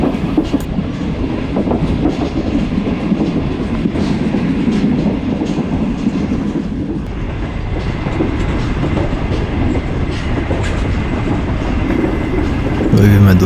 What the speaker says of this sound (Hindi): हल्के हल्के हचकोले लेती हुई ट्रेन